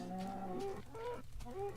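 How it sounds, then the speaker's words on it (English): Cows in Minecraft moo in a few drawn-out, low, wavering calls that overlap slightly, heard at a soft level with no talk. "Will you shut up, please, Mr. Cow?"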